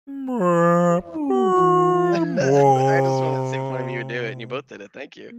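Two people imitate a whale call with long, wavering, howl-like voiced tones, loud and close, ending in a spoken remark.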